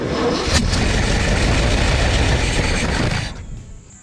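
An old junkyard wood chipper engine cranking hard as it tries to start, a loud continuous churning drone for about three seconds that then cuts off, leaving quiet.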